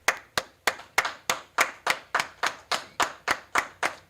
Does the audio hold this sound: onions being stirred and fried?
no